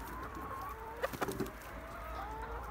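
Chickens in a coop holding over two hundred hens cluck in a short, close burst of several quick calls over a low background hum, with faint chatter of other birds around.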